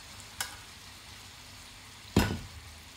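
Hot cheese konafa meets poured syrup, giving a brief soft crackle and then a louder sizzling burst that fades quickly, close up in a quiet kitchen.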